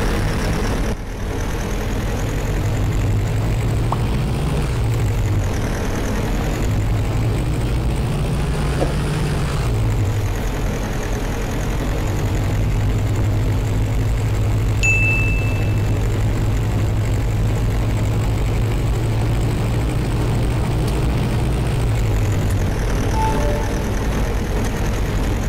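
Low, steady bus engine drone from a Caio Apache VIP 4 coach in Euro Truck Simulator 2, the rumble swelling and easing as it accelerates along the road, loud and continuous with no talk.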